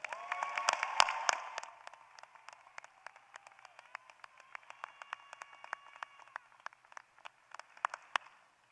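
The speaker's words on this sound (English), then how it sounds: "I think they deserve a big round of applause." Commencement audience at a university graduation ceremony clapping, sharp scattered claps heard at a distance that start fuller and thin out to sparse individual claps over several seconds, faint overall.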